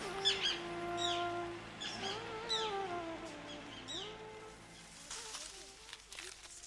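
Birds call in an Indian wildlife reserve that is home to parrots, herons, flamingos, cranes, cormorants and kingfishers. Several wavering, harmonic cries rise and fall over a soft, steady outdoor background.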